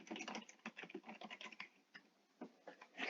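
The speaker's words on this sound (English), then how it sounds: "Sorry if my keyboard and mouse are loud and annoying." Rapid, uneven computer keyboard typing with clustered clicks and brief pauses, close and fairly quiet, with no voices.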